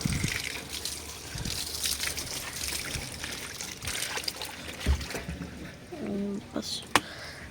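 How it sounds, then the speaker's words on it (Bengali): Water from a garden pipe splashes and trickles onto rose plants, a continuous gushing flow with scattered thuds and rustles, then a brief clink and a few sharper knocks near the end. "গোলাপ গাছগুলোকে একটু জল দিয়ে দেবো"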